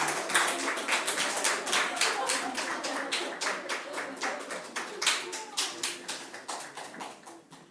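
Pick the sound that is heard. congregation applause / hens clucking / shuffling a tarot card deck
congregation applause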